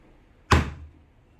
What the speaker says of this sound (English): so now let's knock it over at this coaster here